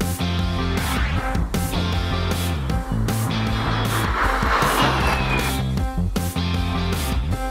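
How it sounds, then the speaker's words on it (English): An electric 910E classic race car drives at speed, giving a loud, steady whine with layered tonal hum and rushing wind, close and continuous without letup. "driving this car with a top speed of up to 300 kilometers per hour is absolutely"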